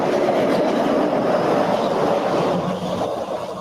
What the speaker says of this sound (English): It's pretty loud. That's this. It's the monorail.